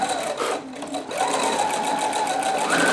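A sewing machine runs steadily up close, stitching a decorative paisley pattern down the center of a shirt placket, with a brief dip in the motor's hum before the whirring picks back up.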